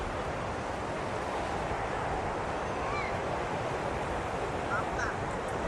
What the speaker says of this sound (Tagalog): sobrang alon kasi ngayon